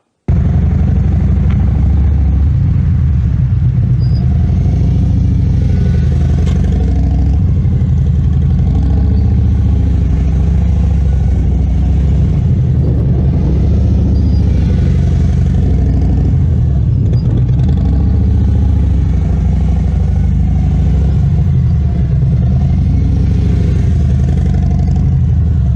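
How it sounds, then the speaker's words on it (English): A 2017 Harley-Davidson Road Glide rumbles at low speed through tight turns, its engine a loud, steady low throttle burble that rises and falls gently throughout, with no talking. "he's going to be riding a 2017 Road Glide,"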